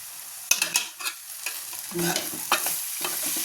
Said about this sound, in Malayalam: ഒത്തിരി വഴറ്റി വെച്ചു നല്ലതുപോലെ മിക്സാക്കി വെച്ചു